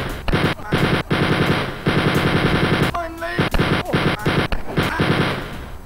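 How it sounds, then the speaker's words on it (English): Chain gun firing in Wolfenstein 3D, loud rapid bursts of repeated shots with brief pauses between volleys, up close. "I'm definitely gonna need the chain gun here."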